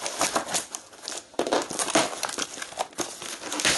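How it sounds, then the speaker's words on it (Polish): A parcel holding an air pistol being opened with a small knife, the packaging crinkling, rustling and crackling in close, busy bursts, with brief pauses between handling, no voices. "Więc zacznijmy otwierać paczuszkę"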